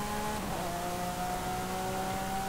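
A 2021 Lamborghini Countach LPI 800-4 with a mild hybrid system, driven in Forza Horizon 5, its engine held at high revs in a loud, steady, sustained drone that climbs slightly early on.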